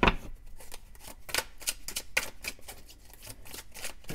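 A tarot deck handled close up while a card is drawn, a run of quick soft papery flicks and shuffling rustles with no voices.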